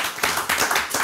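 A small group claps American-style in a quick burst of applause: dense, close, fairly loud hand claps swelling in a few waves over about a second, with no talking.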